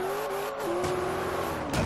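A racing car in the Forza Horizon 2 video game drives on steadily, its engine holding a sustained tone that drops in pitch, with brief tyre squeals and a louder surge near the end, and no talk over it.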